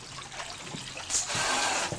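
Water running and trickling into a water gun as it is filled, a soft steady stream that swells louder toward the end, fairly close.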